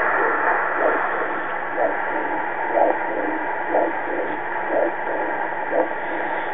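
Heartbeat of an unborn boa constrictor, weeks before birth, about 60 beats per minute: soft, regular thumps about a second apart over a steady muffled hum, about seven beats in all.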